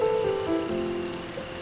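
Steady rain falling on a surface at night, a constant even patter with no pauses, under a faint tonal hum.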